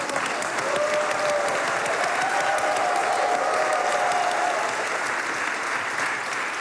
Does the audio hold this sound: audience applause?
yes